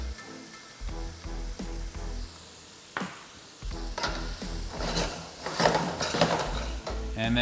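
Food sizzling in a pan with minced ginger and Chinese five-spice being stirred, soft scraping and crackling that grows busier toward the end, close and fairly quiet.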